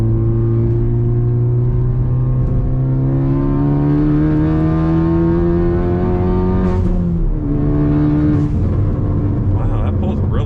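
A 2022 Mk8 VW GTI accelerating hard, its loud engine tone climbing steadily through a gear before a quick shift, followed by brief exhaust burbles and crackles as the revs drop and build again.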